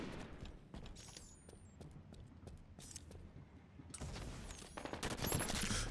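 Gunfire rattles in the video game Halo 5 during a SWAT doubles match on the Empire map, with rapid overlapping shots, some distant and some close, building louder toward the end.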